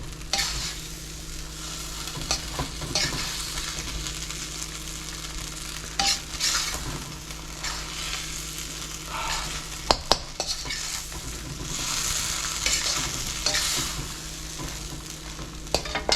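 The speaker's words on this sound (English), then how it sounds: "And stir to combine." Shrimp and tofu pad thai stirred in a hot pan, continuous frying sizzle with repeated utensil scrapes and clinks against the pan, no voices.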